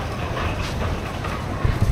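The Subarno Express on the Dhaka–Chittagong line rumbles past. A low, heavy rolling noise carries a couple of sharp wheel knocks near the end.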